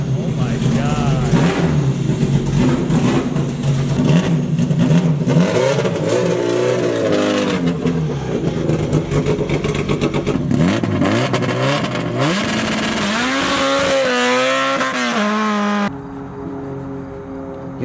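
An all-motor Honda K20 race car engine revs loudly and close by, rising and falling through repeated sweeps before dropping back toward idle, with people talking over it.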